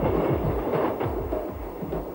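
A passenger train rumbles along the Central Wales line in 1994 with a low, continuous rolling roar and faint rhythmic clatter from the wheels.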